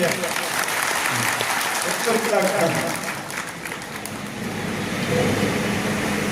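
Applause from the audience at a saints' gathering at an old Narsingh temple in Jammu, a broad clapping wash mixed with crowd murmur and voices talking over it, steady and fairly loud throughout.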